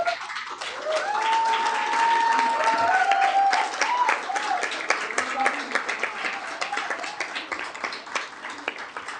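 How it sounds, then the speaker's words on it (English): An audience gives sustained applause at a Richmond city council meeting, a dense crowd of clapping that rises, holds and then thins into scattered claps, with a voice speaking over it. "you're clapping for yourselves because you are Richmond"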